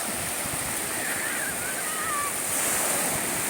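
Steady roar of ocean surf washing onto a beach at Mandarmani, broad and hissing, with a faint high whistle drifting over it; no talking.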